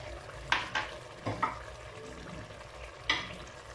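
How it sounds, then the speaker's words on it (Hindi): Onions and mutton frying in a pot for achar gosht as ginger-garlic paste goes in, a steady low sizzle broken by a few sharp stirring scrapes and clinks of a spoon against the pan. "5 मिनट हो गए हैं अनियंस और गोश्त को पकते हुए।"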